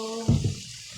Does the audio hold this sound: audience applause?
no